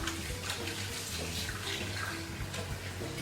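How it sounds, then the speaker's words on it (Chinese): Raw beef rinsed under a running kitchen tap, a steady close splash of water streaming over the meat for a few seconds with no talking. "来把牛肉洗一下，过一下血水"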